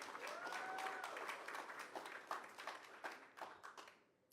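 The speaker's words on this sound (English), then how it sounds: "Yes, give yourselves a round of applause." An audience applauds at a Black History Month reception hosted by the New York City mayor, a dense burst of clapping from many hands that thins out and fades over a few seconds, fairly distant.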